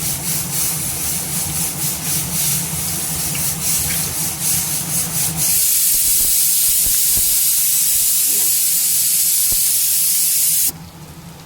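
Egg Manchurian pieces are dropped one by one into hot oil, giving a loud, continuous hissing sizzle that brightens partway through, then cuts off abruptly near the end.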